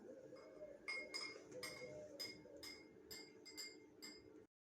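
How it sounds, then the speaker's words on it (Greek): A spoon stirring salt into a glass of water, with a series of about a dozen bright clinks against the glass in an uneven rhythm, close and fairly quiet over a faint background. "Θα ανακατέψουμε το αλάτι στο ποτήρι στο νερό."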